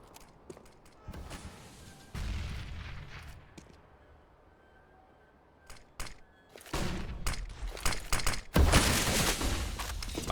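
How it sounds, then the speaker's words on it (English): Flashbangs and gunfire burst in a Counter-Strike match on the Train map, sharp bangs scattered through the clip and thickening into a dense, loud barrage near the end. "Flashbangs trying to slow down the push."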